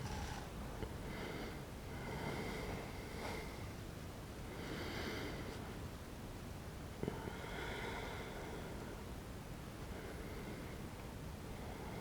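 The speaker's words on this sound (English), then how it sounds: "Long deep breath, inhale and exhale." Slow, deep breathing in a Yin yoga deep stretch, several long inhale and exhale cycles with airy nasal hiss, quiet and close against faint background noise.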